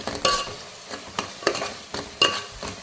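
Biryani masala and onion paste being sautéed in oil for Seeraga Samba mutton dum biryani, with a ladle stirring and scraping in rhythmic strokes over a steady close sizzle, no talking.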